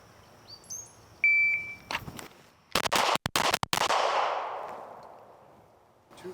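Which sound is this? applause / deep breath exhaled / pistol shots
pistol shots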